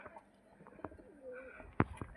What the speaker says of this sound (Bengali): এই দুটো গলা আমাদের দেশীয় জাতীয় কবুতর